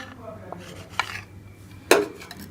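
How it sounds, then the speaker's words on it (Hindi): A knife slices bread into triangular samosa-shaped pieces, giving a few close, crisp scrapes and sharp clinks against a hard surface, with a louder strike near the end. "तो छुरी की मदद से हम इस तरह से इसको काट लेंगे।"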